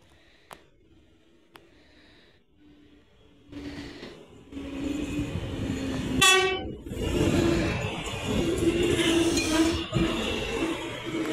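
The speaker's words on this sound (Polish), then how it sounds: "pociąg z Chojnic do Krzyża Wielkopolskiego," A train rumbles into Piła Główna station with a loud horn blast midway, followed by sustained rolling and screeching noise close by.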